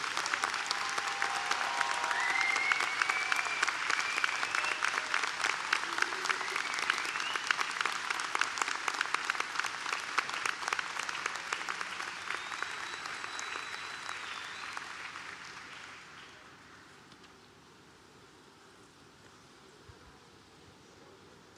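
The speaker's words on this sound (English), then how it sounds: "Face behind and applaud all of the people in the audience" Loud, sustained audience applause fills a college commencement hall at Manhattan College, a dense wash of clapping that holds steady before fading away in the last few seconds.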